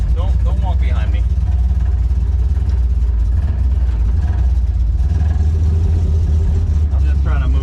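A car engine rumbles loud and close at low revs with a rough, steady drone as the car creeps forward, occasional higher whines and clunks over the top.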